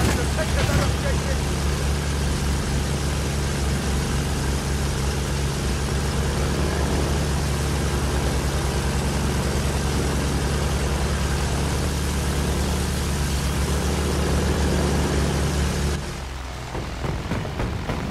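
Low, continuous engine rumble of an enemy tank in a war video game, steady and moderately loud for most of the stretch before cutting off near the end.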